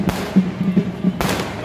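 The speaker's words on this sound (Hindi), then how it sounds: "तो ये देखो कितनी ज़्यादा आतिशबाजी हो रही है।" Fireworks and firecrackers going off at a Dussehra celebration, a string of sharp pops and bangs with a bigger burst near the end, heard over crowd noise.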